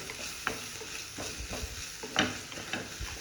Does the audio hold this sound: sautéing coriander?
yes